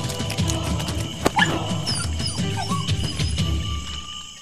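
A cartoon dog barks and yips in short bursts, mixed with whimpers and busy animated sound effects, fairly loud and close, without talking.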